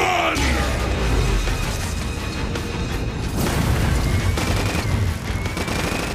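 Rapid gunfire and blasts pile up in a busy, loud battle from the Transformers Cybertron Adventures game on Wii, with a steady dense barrage throughout.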